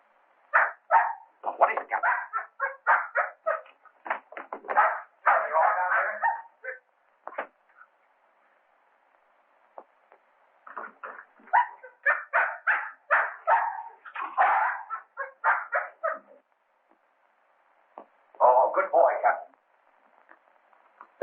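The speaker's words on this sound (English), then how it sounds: "Whose dog is this?" A dog in a classic mystery film barks in rapid clustered bursts, two long runs separated by a pause and a short final burst, fairly close and clear.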